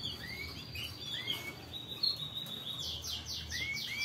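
Bird chicks in a breeding setup chirp repeatedly with thin, high rising peeps, close and clear over a soft background hiss, with a quick run of rapid tweets near the end.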